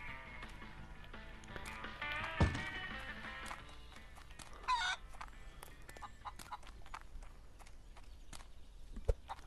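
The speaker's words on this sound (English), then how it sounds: "I hear a chicken." A chicken clucks in a video game amid steady clip-clopping hooves and rustic barnyard ambience, with short clucks and a brief crow-like call rising over the continuous background at moderate distance.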